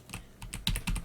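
Quick keystrokes on a computer keyboard as a terminal command is typed on Linux Ubuntu, a close, crisp run of clicks growing slightly louder toward the end.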